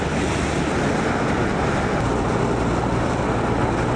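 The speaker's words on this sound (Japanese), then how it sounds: "久慈川ですよ久慈川" The Kuji River in Ibaraki rushes steadily while wind buffets the microphone, giving a dense, unbroken roar of water and air with no voices.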